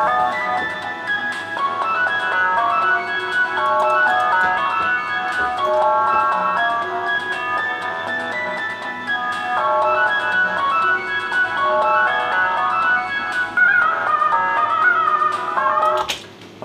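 A bright, tinny instrumental hold-music melody for a telephone line plays steadily and continuously at even loudness for the whole stretch, with no voices over it.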